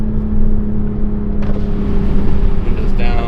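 A Toyota A91 Supra fitted with a VRSF downpipe drones steadily from inside the cabin, its engine note rising as it downshifts, loud and close under brief talk.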